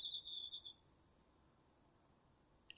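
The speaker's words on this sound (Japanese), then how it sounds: "秋の虫の音をお届けします。" Autumn crickets chirp in a quiet night setting, with a brief trill at the start followed by short, evenly spaced chirps about every half second, fairly close and alone.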